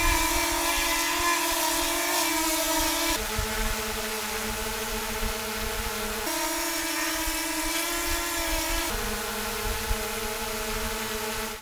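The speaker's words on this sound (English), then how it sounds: "the tone of the propellers or the noise of the drone when it's up in the air" A DJI Mini 3 drone hovering in the air, its propellers giving a steady, high-pitched tonal whine with a broadband buzz that shifts pitch in several distinct steps, continuous and fairly close with no talk.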